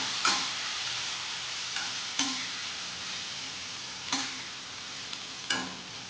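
Ivy gourd being stirred in oil in a pan for Gujarati tindora shak, a soft sizzle broken by a few distinct spoon scrapes and taps at uneven intervals, close but fairly quiet, with no voices.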